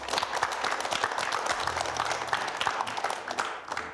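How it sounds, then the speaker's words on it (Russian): An audience claps at a youth financial-literacy event, a continuous burst of many hands with crisp individual claps audible throughout, tapering off slightly toward the end. "Здорово, аплодисменты."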